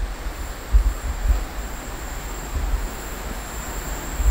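A train rumbles past steadily at Lebak Jero, Indonesia, with low, continuous rolling noise and a faint high whine, no voices.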